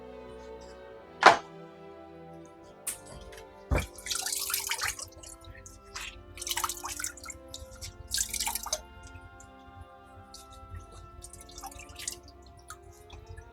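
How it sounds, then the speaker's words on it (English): Whey drips and trickles into a sink as a cheesecloth of cheese curds is wrung out, with sparse close drips, a couple of sharp thunks, and short splashy bursts of liquid, fairly quiet overall. "It's going to take us actually over to the sink and just wring that cheesecloth out."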